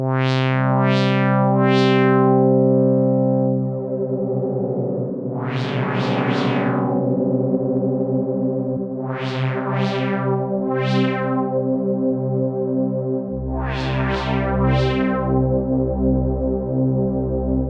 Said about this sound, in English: the pitch will drift back and forth, in and out of tune slightly